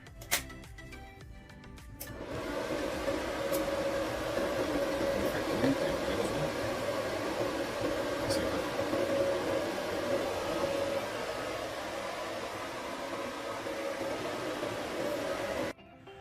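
An inverter welding machine plugged into a household outlet switches on after a few clicks and settles into a steady, loud electrical hum with a faint whine, running continuously for over ten seconds before cutting off abruptly.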